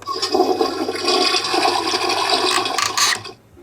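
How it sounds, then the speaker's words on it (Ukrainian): A toy toilet in a Barbie Dream House plays a flushing-water sound effect, a short electronic rushing gurgle, close and clear, that cuts off abruptly. "І в туалеті зливається вода."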